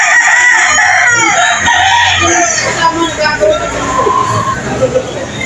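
Roosters crowing and clucking at a chicken market in Lipa, Batangas, loud and close, with someone talking over the birds throughout.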